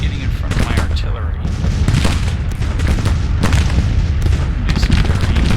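Artillery booms and volleys of musket fire from a Battle of Shiloh war game, a dense, loud, continuous barrage with repeated heavy thuds throughout, and a voice faintly audible beneath the din.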